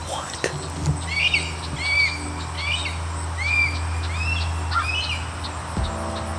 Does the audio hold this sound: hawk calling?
yes